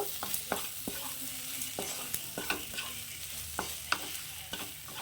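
Okra curry in a pan gets garam masala stirred through it: a soft frying sizzle underneath, broken by sharp, irregular clicks and scrapes of the spoon against the pan, close by, with no voices.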